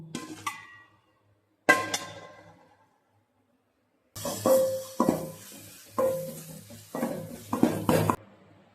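Oil heating and sizzling in a pan while rasam is cooked, heard as several bursts of crackling hiss broken by sharp pan and utensil knocks, close and fairly loud, with no talking.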